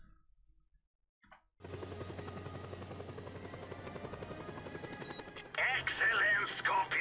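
A helicopter in the open-world video game Just Cause 2 whirs steadily with a droning rotor hum after a brief silence, then gameplay effects and a voice break in near the end.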